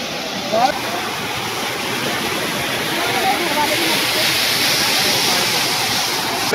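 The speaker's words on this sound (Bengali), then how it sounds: "ওপর থেকে জল আসছে পাহাড়ের ওই সাইড দিয়ে, এখানে ঝর্ণা পড়ছে।" Steady broadband rush of a mountain waterfall on the Kedarnath pilgrimage route, continuous and fairly loud, heard from close by, with no voices.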